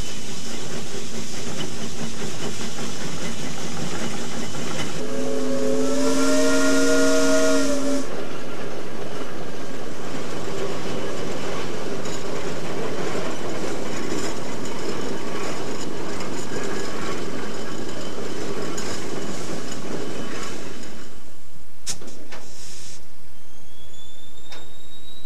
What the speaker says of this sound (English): That strange sound adding a chill to the night air proves to be a leaky diaphragm in the dumping mechanism on one of the cars.